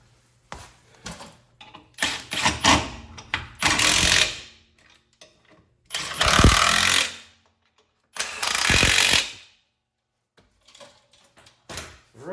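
Impact wrench working on a 1957 Ford 9-inch rear axle during a swap into a 1965 Mustang, heard as several loud bursts of a couple of seconds each with sharp mechanical clatter and quiet gaps between them.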